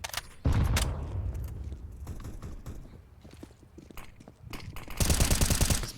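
Rapid automatic gunfire bursts in Counter-Strike: Global Offensive during league match play, crackling in sharp repeated volleys with a heavier burst at the end.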